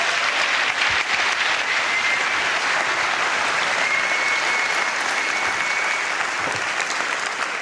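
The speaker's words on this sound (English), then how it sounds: "Just give an ecstatic applause." Audience applause at a book talk: a dense, steady wash of many hands clapping, loud and sustained without a break.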